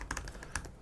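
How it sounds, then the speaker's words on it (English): Keys clattering on a new computer keyboard, a quick burst of close, crisp clicks with irregular rhythm over about a second, no voices. "This new keyboard is a little bit different."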